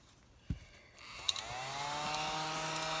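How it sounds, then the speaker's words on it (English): A vacuum cleaner starts up and runs over a craft project covered in sand dust and soda-can pieces. A couple of soft knocks come first, then the motor whines up to a steady, fairly quiet drone. "let me run my vacuum over this really quick"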